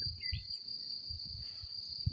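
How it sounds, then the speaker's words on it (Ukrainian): Field crickets chirp in a steady, high continuous trill, faint and ambient, with soft low rustling and no talk over it. "коники. Цвіркунці називаються."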